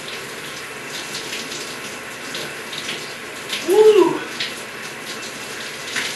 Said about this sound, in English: the hot water here starts getting hot